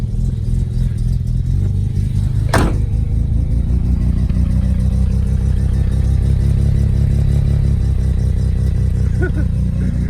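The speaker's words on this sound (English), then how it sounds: "Okay, it's actually idling nicely." A freshly rebuilt car engine idles steadily and loudly close by, with a brief sharp tonal squeal partway through.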